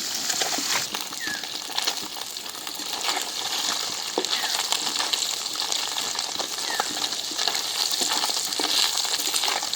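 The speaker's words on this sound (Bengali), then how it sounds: "মাছ ভাজা হয়ে গেছে, উঠাই দিই" Fish frying in hot oil in a kadai, a continuous hissing sizzle with light crackle and occasional faint clicks, moderately loud and steady, no speech.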